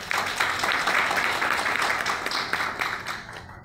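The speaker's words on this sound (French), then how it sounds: "Qu'il vous plaise, mesdames et messieurs, de les applaudir chaudement." An audience at a technical and vocational training workshop applauds warmly, a dense sustained clapping that fills the room and tapers off near the end, with no speech over it.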